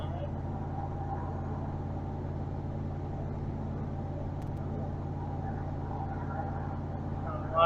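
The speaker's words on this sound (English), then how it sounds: "A lot of road noise from these tires." Steady low tire and road rumble fills the cab of a moving Ford F-150 pickup, a constant droning hum with no breaks.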